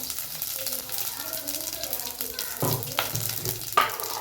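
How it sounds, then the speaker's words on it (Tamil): Mustard seeds, a dried red chili and a green chili frying in hot oil for a Tamil-style rasam, a steady sizzle with a few sharper spattering bursts near the end. "ஆயில் நல்லா காஞ்சது. கடுகு, ஸோ வரமிளகாய் 1, பச்சை மிளகாய் 1 போட்டிருக்கேன்."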